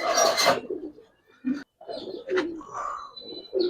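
Giribaz and coloured pigeons coo in soft, low murmuring bursts, preceded by a brief loud broadband rustle at the start, with short pauses between calls and no speech.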